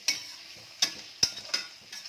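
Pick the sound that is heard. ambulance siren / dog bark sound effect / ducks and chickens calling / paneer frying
paneer frying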